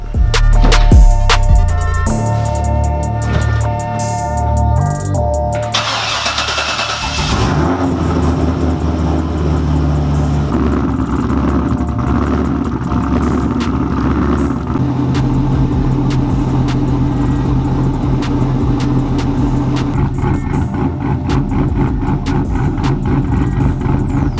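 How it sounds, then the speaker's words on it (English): Car engine starting up, then idling and pulling away, close and loud at first, settling into a steady running drone as it drives out, with no talking. "I'm gonna go ahead and move this one back and then take the car out."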